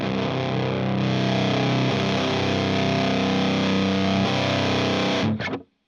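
An electric guitar played through a Boss high gain distortion pedal rings out one thick, sustained metal chord for about five seconds, loud and alone, before it is abruptly choked off.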